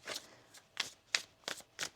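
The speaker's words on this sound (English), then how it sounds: "Let's get one more shuffle now." Tarot cards shuffled close by: five quick riffling bursts in a loose rhythm, each a crisp papery flutter with short quiet gaps between.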